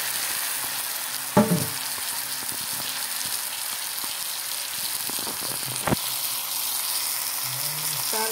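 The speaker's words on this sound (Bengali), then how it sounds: "মশলার সাথে এখন চিকেনটা ঢেলে দিলাম" Chicken frying with spices in a pan, a continuous close sizzle broken by a few knocks and clatters of the utensil, with no one talking.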